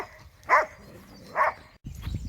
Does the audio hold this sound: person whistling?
no